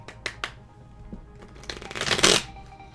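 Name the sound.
shuffling a deck of cards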